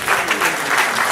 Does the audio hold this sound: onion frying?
no